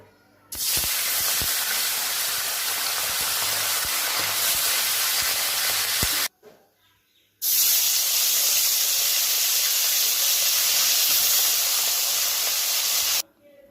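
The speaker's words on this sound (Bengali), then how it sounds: "এবার আমি মাছগুলো ভেজে নেব।" Pomfret fish fries in hot oil with a loud, continuous hissing sizzle that cuts off briefly and then surges back just as strongly.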